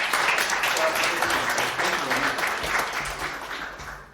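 Audience applause at an event marking the 40th anniversary of the Yes Minister sitcom, a full, continuous crowd clapping with some murmuring voices mixed in, tapering off toward the end.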